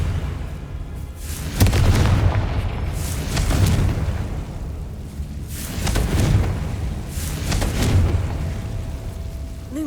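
Confringo blasting spell explosions in Hogwarts Legacy, several deep booming bursts at intervals, each swelling and fading into a rumbling tail, fairly quiet overall with no talk.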